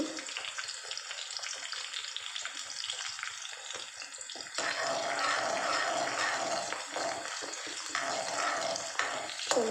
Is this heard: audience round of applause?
no